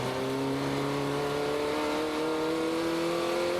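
A drift car's engine revs hard during a drift competition, its loud, close note climbing steadily in pitch as the throttle opens over a few seconds. No voices are heard.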